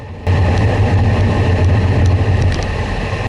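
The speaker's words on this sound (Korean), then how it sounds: "이 바람 소리 들리시나요?" Wind roars loudly and continuously against the rider on a road bicycle descending a mountain road toward Urushizawa Dam in Japan, a dense, steady rush that starts abruptly.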